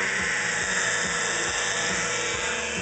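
A small Mini HOG unit built from 1.5-inch PVC with a circulating system runs at about eight amps, giving a constant close whine with a fast rhythmic pulsing underneath, steady in level throughout with no voices.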